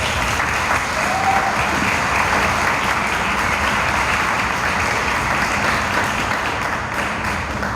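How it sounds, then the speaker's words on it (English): An audience at a business-development graduation ceremony claps steadily for several seconds, a dense, even wash of applause with no voices standing out. "would you join me in giving them a round of applause?"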